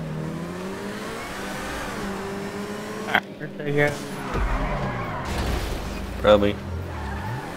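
Race car engines in a video game whine and shift pitch steadily, with a couple of brief skid-like bursts midway through and voices talking over the game.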